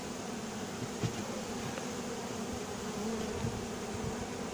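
Honey bees buzz steadily around a Warré basket hive, a dense continuous drone with faint passing hums, close and fairly quiet throughout.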